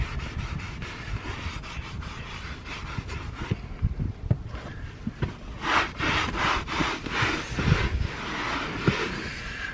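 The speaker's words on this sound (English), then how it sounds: "this side was wiped down with the magic eraser" A magic eraser scrubs the tan interior of a 2009 VW Touareg TDI, making close, rapid back-and-forth rubbing strokes that grow longer and more rhythmic toward the end.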